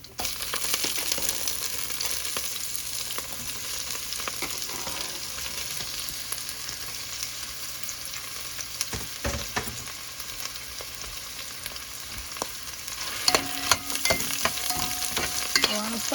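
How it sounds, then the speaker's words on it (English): Seasoning sautés in a pan for rice and beans with coconut milk, giving a soft, continuous sizzle with occasional stirring scrapes and clinks near the end, fairly quiet and with no voices. "saute the seasoning a little"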